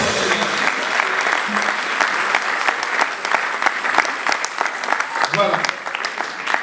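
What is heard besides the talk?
audience applause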